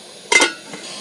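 A lid set onto a pot of thin fish curry with papaya and ridge gourd gives one quick, close metallic clank with a brief rattle, followed by a fainter knock and quiet background.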